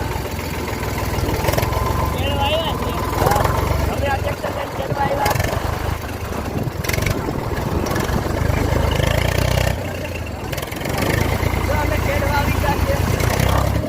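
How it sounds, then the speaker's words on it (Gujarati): A small tractor engine, pulling a rotavator on a farm field, runs steadily with a low, continuous chugging rumble, while voices talk over it. "જો મારો ભાઈ ટ્રેક્ટર હાંકે."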